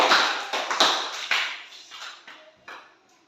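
Applause for the visual group, a short burst of hand clapping from a small group of people nearby that thins out and fades over a few seconds.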